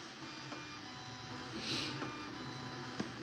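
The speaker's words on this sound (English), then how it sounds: "This is printing." A printer prints quietly at home, with a soft continuous mechanical whir and a few small clicks, faint and distant.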